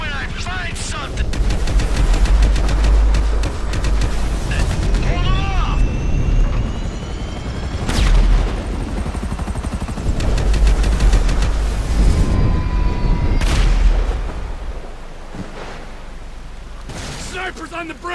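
Gunfire during a sniper attack in the video game Grand Theft Auto V: loud shots and bursts over a constant rumble of aircraft and helicopter noise, with voices speaking at times.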